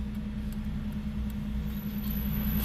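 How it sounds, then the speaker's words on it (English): A truck engine drones steadily with a low hum on a snowy mountain road, growing slightly louder toward the end as it approaches, with no speech. "We gotta let this truck go by"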